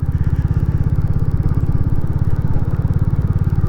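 A Royal Enfield Classic 350 single-cylinder motorcycle engine thumps in a fast, even pulse, loud and close, riding up the Edale Valley countryside with no talking.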